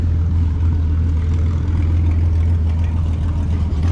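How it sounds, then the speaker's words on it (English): A big Minneapolis Moline four-cylinder tractor engine runs loud and close, with a steady deep low rumble holding without pause. "Pretty cool tractor. Great big 4-cylinder."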